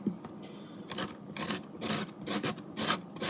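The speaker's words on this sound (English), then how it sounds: "The carrot shreddings are going inside of the item. Inside of the shredder" Carrots are pushed against a hand shredder in a home kitchen, making a series of rough rasping strokes, about eight scraping passes in an uneven rhythm, loud and close with no talking.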